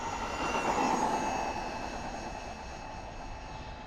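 An RC car motor at full throttle on a speed run gives a steady high-pitched whine that is loudest early and then fades slightly as the car moves away.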